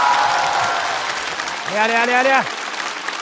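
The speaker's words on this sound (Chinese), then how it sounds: "再次把掌声献给所有的观众以及漫才兄弟。" Studio audience at a stand-up comedy show applauds and cheers in a dense wash of noise that fades, followed by one voice shouting an excited exclamation.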